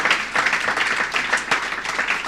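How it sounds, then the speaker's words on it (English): An audience applauds a panel at a conference on technology and gender equity: dense, loud clapping fills the whole short stretch without a break. "A massive, massive round of applause to our panel."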